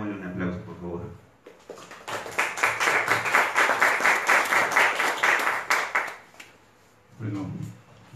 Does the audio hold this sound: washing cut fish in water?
no